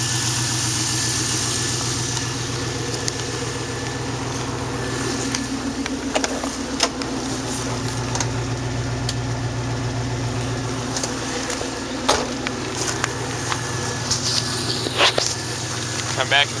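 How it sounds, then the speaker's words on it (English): An LS1 V8 from a Camaro part-out idles steadily with its exhaust dumped under the car, giving a continuous low, throbbing rumble with scattered clicks and knocks on top. "I'm going to let it heat up for a few minutes and give you a few revs."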